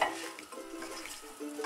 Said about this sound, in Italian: diamo una bella mescolata